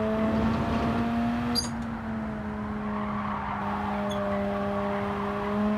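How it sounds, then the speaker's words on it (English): Mazda RX-7 tyres squealing through a corner in Gran Turismo 7 on the Nürburgring GP circuit, a steady drawn-out tonal squeal over a continuous engine drone, loud and close for the whole stretch with no talk. "squealing all the way through."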